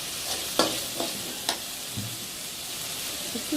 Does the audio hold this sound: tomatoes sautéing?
yes